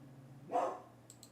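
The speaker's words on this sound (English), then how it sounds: "Little puppy's upset." A small puppy lets out a single short, whiny bark, moderately close but fairly quiet over a low steady hum, followed by a couple of faint clicks.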